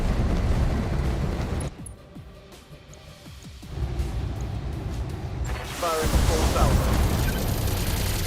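Mech weapons fire and strike a target in the BattleTech video game, a heavy roaring burst that drops away, then rumbling impacts and a loud renewed blast near the end.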